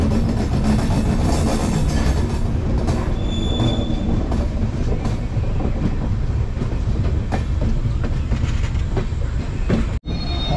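A train runs at Naihati station, with wheels rumbling and clattering on the rails, a high metallic squeal and dense, loud rolling noise, plus a sharp brief dropout near the end.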